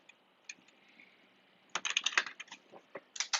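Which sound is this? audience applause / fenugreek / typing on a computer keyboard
typing on a computer keyboard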